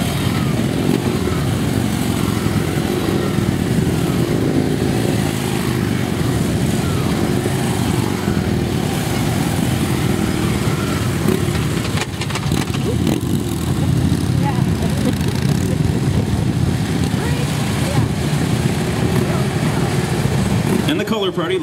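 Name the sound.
motorcycle team riding off along the track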